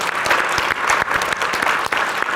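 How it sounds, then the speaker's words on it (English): A brief burst of audience applause at a faith gathering, dense clapping from a seated crowd, fairly close and steady. "I think I want to applaud that."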